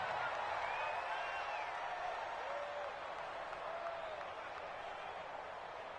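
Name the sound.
stadium crowd cheering at an American football game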